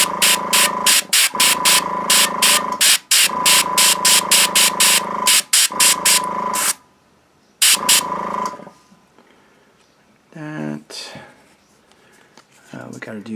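Airbrush spitting hard, rapid bursts of paint onto a miniature during rust weathering, a loud hissing stutter broken by brief pauses that ends in silence, followed by quieter handling sounds.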